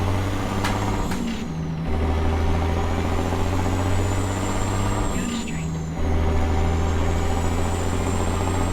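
A Ford LTL truck in American Truck Simulator, a loud diesel engine droning and revving through gear shifts, pitch rising and dropping with brief pauses between pulls.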